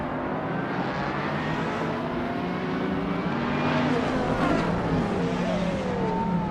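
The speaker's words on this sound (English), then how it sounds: "Jazz is driving a 2007 Lamborghini Reventon" A 2007 Lamborghini Reventon races in a video game, its engine a steady, loud roar with rising and falling gear sweeps that swells slightly toward the end, with no talk over it.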